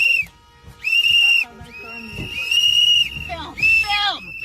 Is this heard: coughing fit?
no